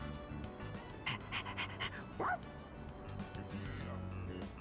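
Stray dog in the video game Persona 3 Reload gives a few short barks and yips over steady panting, close and moderately loud against a low game music bed.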